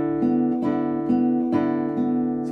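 Classical guitar picked with the right hand on open strings gives a steady, repeating pattern of plucked notes with resonant sustain, close and moderately loud, with no talking.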